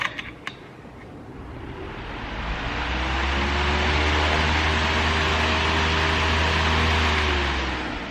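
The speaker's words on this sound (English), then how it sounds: "I have a fan on like full blast going underneath when I'm underneath the car" A loud fan runs at full blast beneath a Nissan 240SX. It spins up from a few clicks into a steady, close, droning whoosh with a low hum, and no voices are heard.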